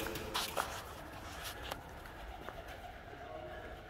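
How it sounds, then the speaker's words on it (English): A pigeon coos inside an old downtown department store building, soft low calls near the start over a quiet hollow room tone with a few faint shuffles. "Pigeon, sorry guys, it's your place."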